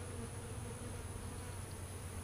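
Honeybees at an opened hive, their steady low buzz continuous and even throughout, close but soft, with no voices.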